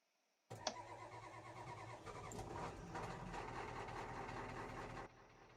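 A rough-running old 1987 Ford F250 truck engine in Farming Simulator 22 cranks and catches, then idles steadily and loudly for several seconds before cutting off abruptly.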